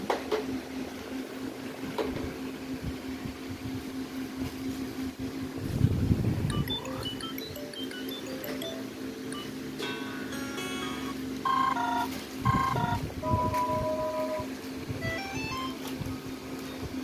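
A Redmi A3 phone plays its ringtones, short melodic electronic tones and chiming note patterns sounding faintly over a steady background hum, close by.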